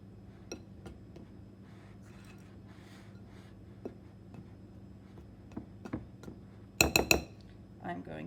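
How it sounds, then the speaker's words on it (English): Icing being made in a mixing bowl with powdered sugar: a utensil scrapes the bowl's sides with sparse quiet clinks and taps, then a brief louder clattering burst near the end. "Make sure you're scraping your sides of your bowl"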